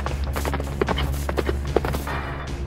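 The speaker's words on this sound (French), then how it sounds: "Le cheval, en galopant, tombe dans le piège destiné à Foxy le renard." A horse gallops in a rapid, uneven rhythm of hoofbeats over a steady low background hum, with no speech.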